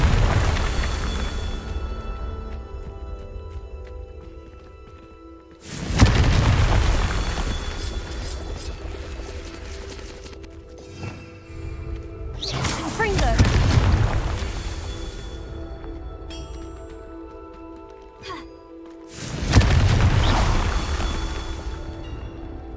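Repeated Confringo fire spell blasts in the wizarding game Hogwarts Legacy: four loud booming explosions spaced several seconds apart, each a sharp burst that rolls off into a rumbling tail, with quieter game ambience in between.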